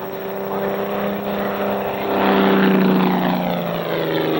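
A propeller aerobatic airplane drones steadily through manoeuvres, its engine and prop hum holding a strong continuous tone that swells slightly louder midway.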